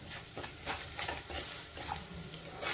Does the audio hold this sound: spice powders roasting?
yes